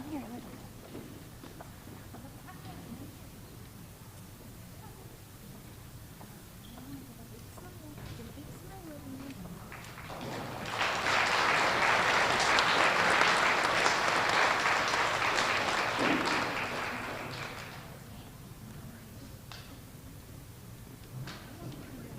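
Applause in a school gathering for kindergarten students of the month, a dense clapping wash swelling up partway through and lasting several seconds before fading back under murmuring voices and room noise.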